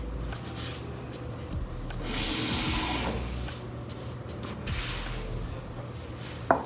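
Water runs from a tap to fill a plant pot, a steady hiss that swells for about a second in the middle and again near the end, with a small knock at the close.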